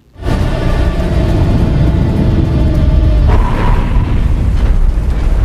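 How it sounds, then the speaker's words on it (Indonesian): A spacecraft explosion in an X-Men film: a loud, sustained blast roars continuously with heavy low rumble, a sharper burst rising partway through, with no voices. "pesawat itu pun meledak"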